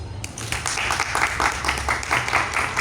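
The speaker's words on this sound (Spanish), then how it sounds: "la recibimos con un fuerte aplauso" Applause from an audience at a book presentation at a fair, steady dense clapping throughout with a few louder individual claps, fairly close and filling the room.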